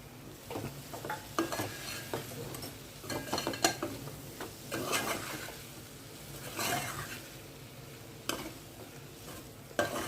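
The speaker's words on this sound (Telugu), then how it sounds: "దీంట్లో ఇప్పుడు పచ్చిరాయలు కూడా వేసి రెండింటిని కలిపి మగ్గించుకుందామండి" Brinjal pieces and raw prawns are stirred together in a hot pan, with soft sizzling under repeated scraping strokes and a few sharper clinks of the utensil against the metal, all close by with no voices.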